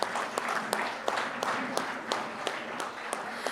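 Applause from an audience at a charity golf day prize giving, a moderate, steady patter of many hands with sharper individual claps standing out, somewhat distant in a hall.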